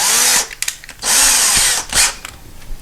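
An electric screwdriver drives screws to mount the brackets supplied with new window blinds, three loud whirring bursts with short pauses between them, close by and with no talk.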